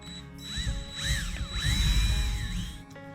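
A power drill bores a hole into a brain-shaped custom snow globe, its whine rising and falling in several short bursts, close and fairly loud, with no talking.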